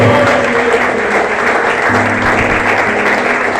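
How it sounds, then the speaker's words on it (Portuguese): A church congregation applauds during a Sunday worship service, with dense, steady clapping that fills the space loudly and evenly for several seconds, with no pause. "Vamos aplaudir o Senhor."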